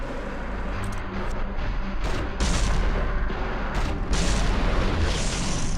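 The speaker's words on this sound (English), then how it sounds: "Throwing grenades." Grenades thrown by Dante explode in the Devil May Cry video game, a dense loud rumble of booms and blasts that rolls on over the whole stretch with no speech.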